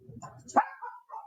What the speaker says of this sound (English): I apologize for my dogs being loud.